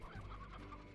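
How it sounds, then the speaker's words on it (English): A chicken clucks briefly and faintly in the video game Slime Rancher, a short burst of soft clucking with nothing else around it. "Oh, there's loads of chickens around here."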